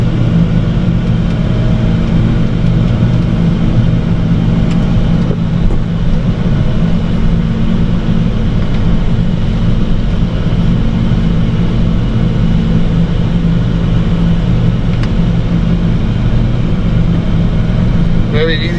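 A CLAAS Jaguar 1200 forage harvester drives with a constant low engine drone and steady harmonic hum, heard from inside the cab. Someone talks over the engine throughout.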